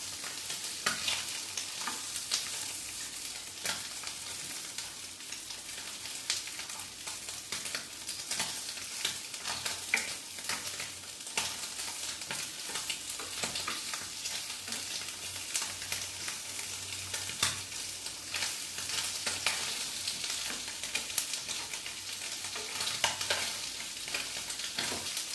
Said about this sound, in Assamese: ভালকৈ ভাজিব লাগিব